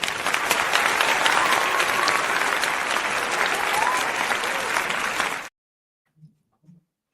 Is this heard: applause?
yes